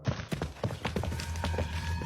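Rapid hoofbeats of spooked horses running, a quick uneven clatter of thuds close by, continuing steadily throughout.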